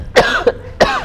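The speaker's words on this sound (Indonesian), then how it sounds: "Tapi kok batuk ya?" A person coughs after vaping: a heavy cough followed by a short second hack, then another rough cough, close and loud with no talk.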